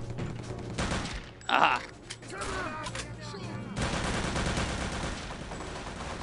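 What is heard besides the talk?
gunfire in Return to Castle Wolfenstein VR video game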